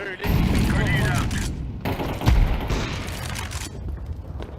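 A grenade blast and rapid gunfire fill a Counter-Strike match, loud and close, with a sustained burst of shots and a heavy boom near the middle while a player calls out over the action.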